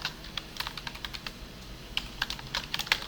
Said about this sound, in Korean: 액티브라고 써주고 엔터 치시면 확인할 수 있습니다.